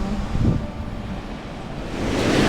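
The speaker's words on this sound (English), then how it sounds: "So there's been some fairly nice waves coming in." Waves of around seven feet break at Cape Disappointment, surging in two swells of wash and spray with wind buffeting throughout and no voices.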